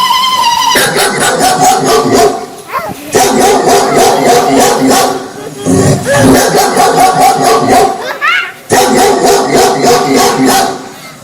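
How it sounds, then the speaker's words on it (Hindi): A dog barks repeatedly in loud, rapid bursts with some whimpering yips, nearly continuous with short pauses, close and dominant. "टॉमी भौंक भौंक कर भेड़िए को वहां से"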